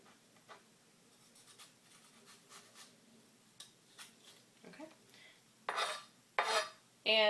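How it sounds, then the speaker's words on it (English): A knife scrapes seeds from a jalapeño on a cutting board, a run of faint, quick, close scratches that builds to a few louder scraping strokes at the end. "So we'll finish de-seeding our jalapeno."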